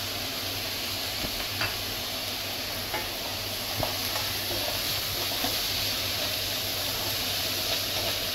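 Soaked dal cooking with chopped onions in a pan for a fenugreek leaf bhaji, a steady low sizzle and hiss with occasional soft stirring taps, close and even, no speech.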